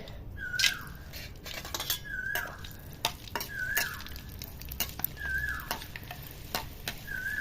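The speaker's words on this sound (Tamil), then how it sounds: "வெயிலில் இருபது நிமிஷம் எண்ணெயை ஊற்றி கடாயில் வச்சா எண்ணெய் சூடாகி வத்தல் வறுக்குது" Vathal and appalam frying in oil that was heated by sunlight in a kadai, giving a steady close sizzle with short stirring scrapes and clinks at regular intervals, no voices.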